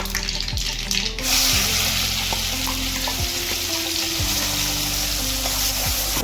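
Ground masala paste sizzling loudly in hot oil in a kadhai, a steady close frying hiss with occasional stirring scrapes, no voices.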